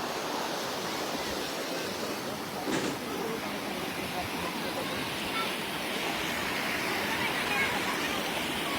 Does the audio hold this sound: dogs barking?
no